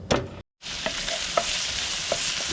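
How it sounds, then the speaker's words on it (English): Bacon and leeks sizzle steadily in olive oil in a frying pan, a continuous close frying hiss broken by a brief silent gap and light stirring clicks, with no talking. "Let that sizzle away for a bit."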